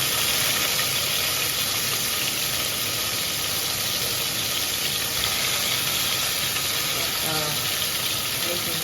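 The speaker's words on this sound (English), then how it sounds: "So you fry the chicken in batches" Chicken frying in oil in a home kitchen: a constant broadband sizzle with a thin high whine running throughout, and faint voices in the background.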